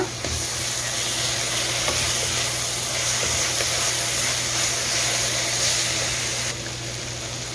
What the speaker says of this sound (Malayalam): ജസ്റ്റ് ഒന്ന് ഇളക്കി കൊടുക്കുക